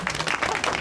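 A brief burst of audience clapping used as a vote at a community session, a short loud patter of many hands lasting under a second.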